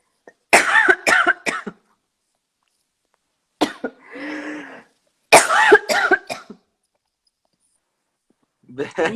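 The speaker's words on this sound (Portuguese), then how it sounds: "Perdão, deu um acesso de tosse." Several harsh coughs burst out in clusters separated by silence, with a short throat-clearing sound between them.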